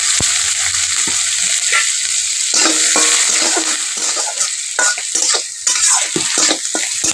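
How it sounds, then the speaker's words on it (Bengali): Sliced onion, peeled garlic cloves and two green chillies frying in oil in a wok, with a loud, steady sizzle close up and repeated scraping stirs of a spatula. "আবার দিয়ে দিচ্ছি কুচে রাখা একটা পেঁয়াজ এবং দুটো কাঁচা লঙ্কা।"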